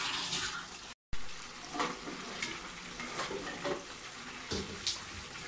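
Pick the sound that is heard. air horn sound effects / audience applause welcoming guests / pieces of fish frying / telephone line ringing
pieces of fish frying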